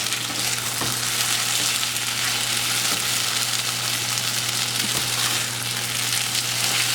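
Sweet potato gnocchi sizzle and fry in a pot while being stirred, a steady loud crackling hiss with a few scraping knocks from the mixing and no talking.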